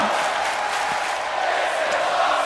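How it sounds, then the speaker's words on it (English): A dense arena crowd chants and roars continuously at a wrestling event in the WWE 2K24 video game, a loud, steady wash of voices with no clear breaks. "And the crowd is chanting."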